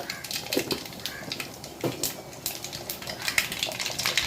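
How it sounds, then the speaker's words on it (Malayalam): Mustard seeds crackling and popping in hot oil in a pan, a steady run of small sharp pops and faint sizzle with light utensil clinks, close and moderately quiet. "നമ്മളെ കടുക് നല്ല രീതിയിൽ പൊട്ടിക്കൊണ്ടിരിക്കുകയാണ്"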